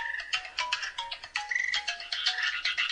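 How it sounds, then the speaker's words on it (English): A phone alarm goes off, a chirpy repeating electronic melody of short bright tones in a steady pattern, close and clear, with no voices over it. "Sorry, my phone alarm just went off."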